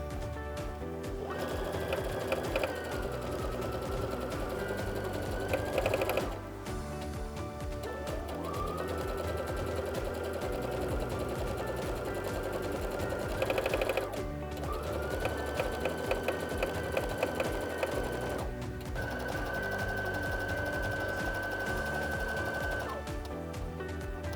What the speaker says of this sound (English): So that way we get this nice top stitch along the top of this fold.